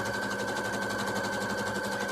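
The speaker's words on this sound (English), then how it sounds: "So we're going to go ahead and continue sewing." A sewing machine runs steadily, stitching through three layers of fabric for a beginner popsicle holder, with a continuous close motor hum and fast rhythmic needle chatter and no pauses or voices.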